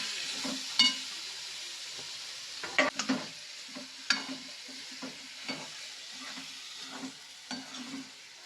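Fish curry sautéing in a pan gives a steady close sizzle, with a utensil scraping and tapping against the pan at irregular intervals throughout.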